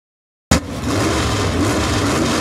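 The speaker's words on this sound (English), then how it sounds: "Both gentlemen are already in the pits, are warming up their tires." Drag race cars warm up their tires in the pits, bursting in after a moment of silence with a loud, steady engine drone and a gritty roar that holds at an even level.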